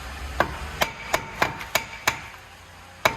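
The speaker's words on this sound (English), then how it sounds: "Hammer it so it loosens up any debris or anything like that." A hammer strikes a Vauxhall VXR's brake disc to loosen debris, seven sharp metallic knocks at an irregular pace, close and loud, with a longer pause before the final blow.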